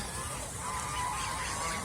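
Domestic geese that are laying eggs in the rainy season honk faintly in the distance, giving a short, low, drawn-out call against a steady background hiss.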